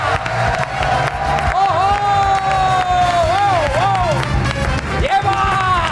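A studio audience claps and cheers steadily to welcome a guest onto a talk show, with a dense crowd roar under excited shouts and music.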